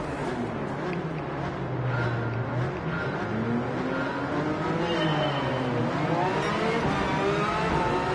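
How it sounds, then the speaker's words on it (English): A Porsche race car engine in the racing game Gran Turismo 7 drones steadily throughout, its pitch sweeping up and down as the car accelerates and shifts, loud and continuous with no talking. "Just hear my Porsche in the background"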